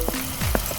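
Garlic fries in hot vegetable oil over softened onions for a sweet-and-sour grouper escabeche cooked outdoors, giving a brief, steady sizzle with a couple of soft stirring scrapes and no talking.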